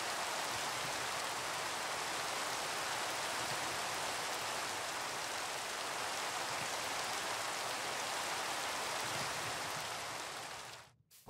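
Steady rain falls throughout in the video game Minecraft, a dense even hiss like rain on surfaces that holds at one level for about eleven seconds before cutting off abruptly at the end.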